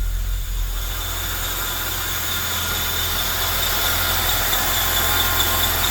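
A rebuilt GM L67 V6 car engine idles steadily just under 1,000 rpm with a low, even rumble and a faint whine on top, unbroken throughout.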